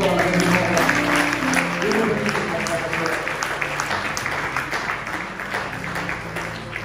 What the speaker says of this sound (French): On applaudit très fort la